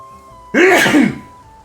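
A streamer gives one loud, explosive sneeze close to the microphone, breaking a low steady hum and lasting under a second.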